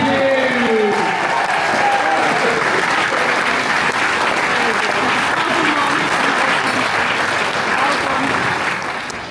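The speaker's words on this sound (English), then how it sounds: "Nice big round of applause." Wedding guests give a big, full round of applause, dense and sustained for about nine seconds before tapering slightly at the end, with a few voices and cheers rising over the clapping at the start.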